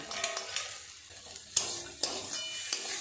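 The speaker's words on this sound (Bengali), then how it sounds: "চিনিটা দিয়ে আরও একটু ভালো করে নেড়ে চেড়ে নেবো" Vegetables stirred with sugar in a frying pan while making chirer pulao, a steady sizzle broken by the scrape and clink of a spoon against the pan every half second or so, close and alone.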